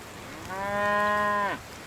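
A cow moos once in the medieval farming video game Medieval Dynasty, a single drawn-out, clear bovine call lasting about a second over quiet ambient background.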